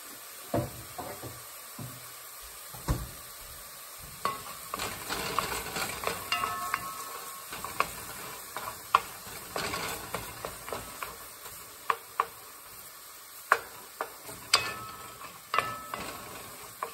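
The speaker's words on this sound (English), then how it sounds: "Just gonna let that fry up a little bit." Lamb frying in a pan: a soft, continuous sizzle with scattered knocks and sharp clicks of utensils against the pan, fairly close and steady, no talking.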